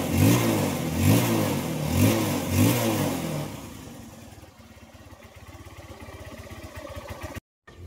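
A Honda TMX Supremo motorcycle engine, misfiring and troubled, revs up and down in four loud bursts, then drops to an uneven, sputtering idle before briefly cutting out.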